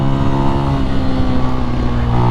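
A Benelli TNT 135 motorcycle engine revs hard and climbs toward its 10,000 RPM redline, a loud, steady, buzzing wail that holds high throughout with no voices over it.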